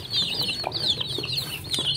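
A rooster clucks and chatters in a continuous, close run of calls, loud over a steady farmyard background.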